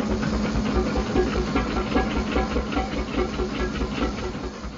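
A 1904 steam traction engine hisses steadily with a rhythmic chuffing underneath, loud and close, with no talking.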